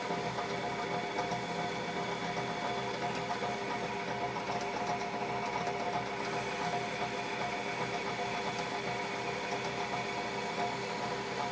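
Metal lathe turning a small metal part down to size in a workshop, a steady mechanical whir and hum with faint rhythmic chatter, continuous and even throughout.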